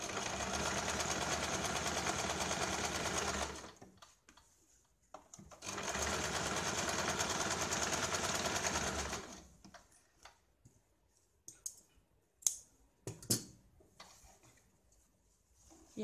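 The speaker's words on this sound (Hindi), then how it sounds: "यहाँ पे हमें इस तरह से तिरछी सिलाई लगानी है" A sewing machine stitches a diagonal seam on a blouse lining in two long, loud, steady runs, followed by quieter intermittent clicks and handling sounds.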